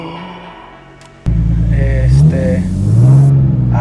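A Nissan 350Z engine, fresh from an ignition coil replacement to cure a misfire, catches with a sudden loud start and then revs up in smooth, strong swells close by, with a voice speaking over it.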